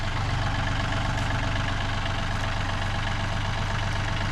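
A tractor engine idles steadily at a homestead where big logs are being milled for a cabin. The close, continuous low rumble stays even throughout, and nobody talks over it.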